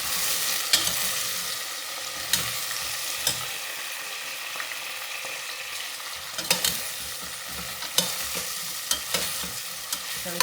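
Asafoetida is stirred in a sizzling frying pan. A continuous fry hiss runs under repeated clinks and scrapes of a spoon against the pan, spaced irregularly, close and clear, with no talking.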